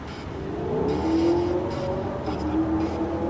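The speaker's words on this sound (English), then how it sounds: "Sick truck, dude." A loud pickup truck drives past outdoors, a rising then sustained engine drone with a steady mid-range tone that swells and holds across the moment, no voices.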